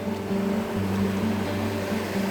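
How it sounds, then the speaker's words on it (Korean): Ocean waves at Samp'o Beach in Korea wash in with a continuous loud surf rush under a steady low hum, heard up close without speech. "이런 어 파도 오는 거봐"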